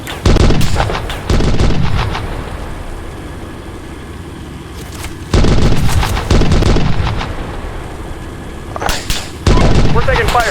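Repeated loud gunfire and blasts hit in a Steel Beasts Pro PE tank battle during a Russian attack in northeast Ukraine, coming in clustered bursts of sharp cracks with rumbling tails and quieter gaps between.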